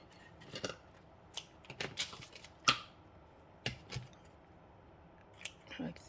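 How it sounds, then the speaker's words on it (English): Scissors snipping two small pieces of ribbon for a fancy-fold card, a handful of short, crisp, quiet snips spread out with pauses between them. "we're gonna cut 2 pieces of the ribbon"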